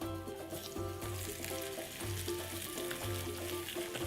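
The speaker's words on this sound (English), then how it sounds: "my oxtail. You want to hear it sizzle?" Oxtail meat sizzles loudly and steadily in a hot pan, a constant crackling hiss with no voices.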